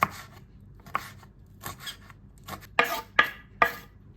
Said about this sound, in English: I'm going to chop green chili as well